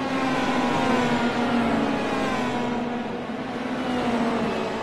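A race car engine drones steadily during an auto race, a loud continuous mechanical whine holding a fairly even pitch with slight wavering, heard alone without commentary.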